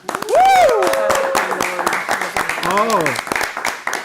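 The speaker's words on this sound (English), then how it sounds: "And a round of applause for that" An audience at an entertainment talk show in Orlando gives a round of applause, with whooping voices and cheers rising over scattered claps and continuing through the clip.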